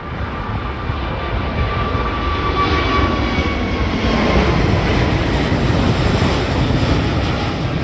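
An Emirates Airbus A380 passing near Heathrow sends out a loud, sustained jet engine roar that rises slightly and holds a broad rumble, with a faint whining tone on top.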